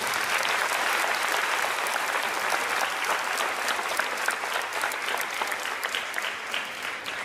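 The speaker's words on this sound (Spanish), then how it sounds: "démosle un aplauso a ellos." Sustained applause from a congregation honoring catechists at a First Communion ceremony, dense steady clapping filling the whole stretch, fairly loud and even, slowly thinning toward the end with no talk over it.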